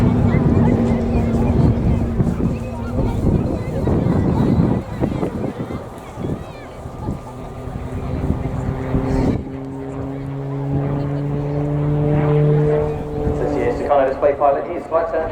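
A Tucano T1 turboprop trainer flies a display at the RIAT 2019 airshow, its engine droning and whining with a shifting pitch under steady crowd and wind noise while a commentator talks throughout.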